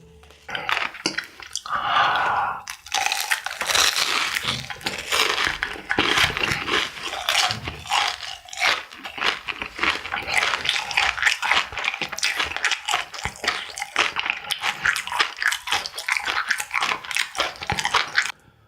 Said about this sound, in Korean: 나도 새우튀김 내거 먹어볼게